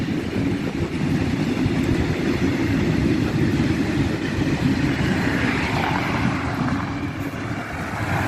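A steady, loud rumble of a train rolling past, with continuous low clatter and hiss throughout and no voices.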